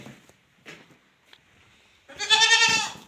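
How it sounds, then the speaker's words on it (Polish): Goats on a farm during morning chores: a few soft, scattered bleats and rustles early on, then one loud, close, wavering bleat that fills the last second. "Kozy, o zadowolone, najedzone"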